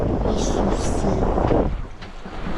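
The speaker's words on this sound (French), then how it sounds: "Par 11 à 12 nœuds de vent." Wind blowing at about 11 to 12 knots on a sailboat sailing solo off the coast of Senegal, a steady loud broadband rush with gusting texture that eases slightly toward the end.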